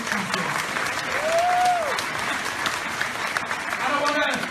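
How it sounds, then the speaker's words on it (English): An audience at a political speech in Leeds claps and cheers in a sustained wash of applause, with voices calling out over it and a brief whistle-like tone partway through. "Feel free to cheer when Sam nearly finished, it's fine."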